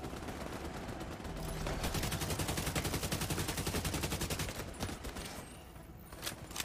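Assault rifle fire in The Division 2, a fast, evenly spaced automatic burst that swells loud in the middle for several seconds, then fades to scattered shots.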